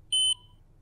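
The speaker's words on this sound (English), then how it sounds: "The meter will beep and turn on." A blood glucose meter gives a single short, high-pitched electronic beep as a test strip is inserted, clear and close in an otherwise quiet room.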